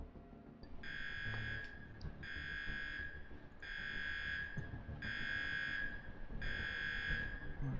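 An alarm sounds in the video game Underrail, a harsh electronic buzzer repeating in five even bursts of about a second each over a low rumbling background.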